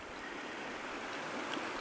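Fast-flowing water of the Mersey River, where a trout angler is fishing the quick runs: a steady, broad rushing wash heard close and unbroken, with no talk.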